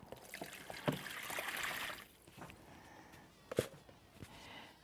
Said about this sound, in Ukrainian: Виливаю в таке деко.